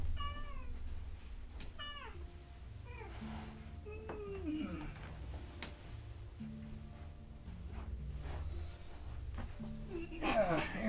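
Maggie, a pet cat, lets out a series of clear, fairly close meows, about five or six rising cries spaced a couple of seconds apart, over a low steady background hum.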